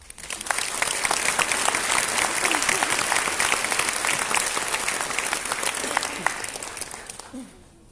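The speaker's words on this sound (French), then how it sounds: "Je crois que vous pouvez les applaudir." Sustained audience applause at a New Year's greetings ceremony, loud and dense with many hands clapping steadily for several seconds before tapering off near the end.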